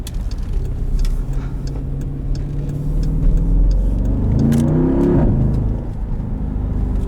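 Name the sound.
Jeep Grand Cherokee SRT engine accelerating with burbles on upshift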